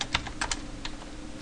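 Keys clack on a computer keyboard while a Perl program is typed, a quiet, close run of irregular single keystrokes with short pauses between them.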